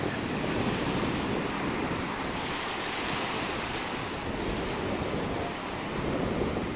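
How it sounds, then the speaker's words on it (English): Ocean waves wash onto a Florida beach in a continuous roaring surge, heavy wind buffeting the microphone, with gentle swells in loudness and no speech. "first time at the ocean."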